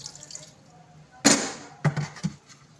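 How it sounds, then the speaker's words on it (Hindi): Water splashes into a juicer jar in a short gush, followed by a few brief trickling pours and drips against a quiet background. "थोड़ा पानी ऐड करेंगे इसमें।"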